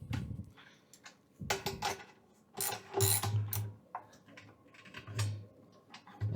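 A wrench ratchets as a gas post is tightened onto a Cornelius beer keg, giving bursts of close metallic clicking and pawl rattles separated by short pauses, with occasional low clunks of metal on the keg.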